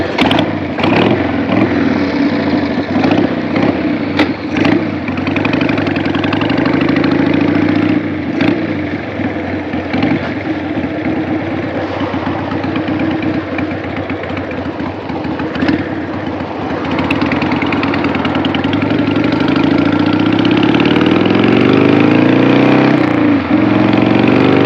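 A 2002 Harley-Davidson Sportster motorcycle runs while being ridden, its loud, close engine throbbing with uneven pulses that rise and fall with throttle, and wind noise mixes in.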